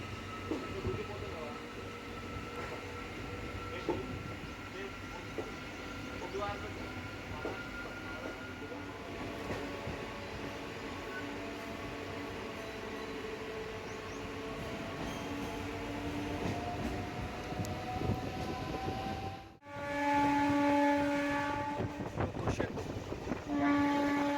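A crowded MEMU passenger train running from Secunderabad to Warangal, a steady rumble and rail clatter heard from inside the carriage, with a horn-like tone and a brief jolt near the end.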